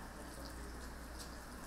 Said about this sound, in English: Wash your hands well with soap and water.